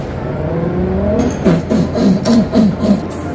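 A Subaru's new exhaust rumbles at idle, then blips through several short, throaty revs in quick succession, close by.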